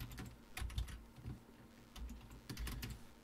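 Text is typed on a computer keyboard in close, quick bursts of soft key clicks with brief pauses between them, without speech.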